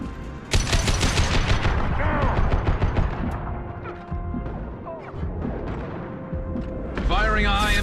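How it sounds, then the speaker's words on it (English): High-impact gunshots in the Mass Effect 2 game, a loud burst of blasts and crashing impacts with sci-fi effects, layered over music and game sounds. "Firing a high impact shot."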